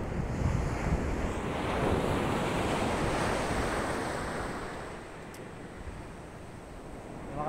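Waves rolling and washing on the shore, mixed with gusty wind buffeting the microphone; a continuous, fairly loud roar with no voices.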